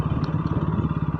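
A motorcycle being ridden, its engine putting out a steady, close, low rhythmic throb for the whole stretch with no voices over it.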